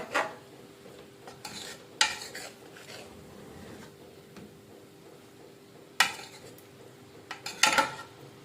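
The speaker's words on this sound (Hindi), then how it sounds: "गाजरें हमारी हो गई हैं जी फ्राई" Carrots frying in a pot for Kabuli pulao, a faint steady sizzle broken by a few sharp close clanks and scrapes of a spoon against the pot, with no talking.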